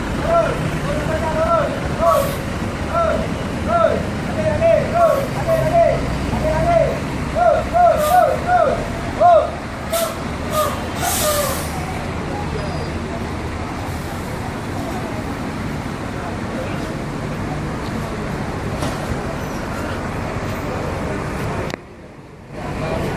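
ANS intercity bus from Padang pulling away at the Pondok Pinang terminal in Lebak Bulus, engine rumbling among terminal traffic noise, with sharp air-brake hisses and people talking nearby.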